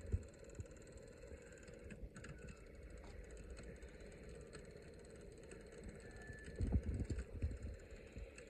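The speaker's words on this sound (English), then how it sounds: "control the rate at which the motor spins and the lamp lights" A small electric motor in a Snap Circuits Extreme SC-750 electronics project spins a fan with a steady, faint mechanical whir and light rattling, growing slightly louder and busier near the end, with no talking.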